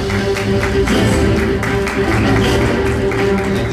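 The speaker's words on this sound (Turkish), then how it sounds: "Alkışlarınızla." A dense, steady patter of crowd applause at an awards ceremony fills the whole stretch, loud and continuous with no clear pauses.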